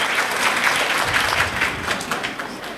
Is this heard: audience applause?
yes